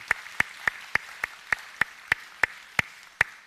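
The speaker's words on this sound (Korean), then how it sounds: "저는 박수로 환영하겠습니다." About a dozen single, evenly spaced claps ring out in a church service as a new elder is welcomed, each one sharp and close, with quiet between them rather than a full crowd's applause.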